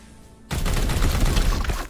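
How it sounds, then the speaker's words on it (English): Dense, loud automatic gunfire bursts out suddenly after a quiet moment in Warhammer 40k: Chaos Gate - Daemonhunters, with rapid overlapping shots rolling on without a break. "Still continuing to shoot this guy."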